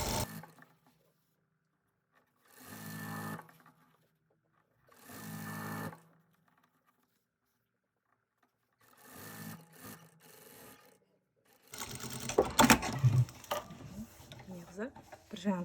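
Sewing machine stitching a fabric cover in short separate bursts of rapid mechanical whirring with quiet pauses between, followed by a louder stretch of rustling and handling of the fabric.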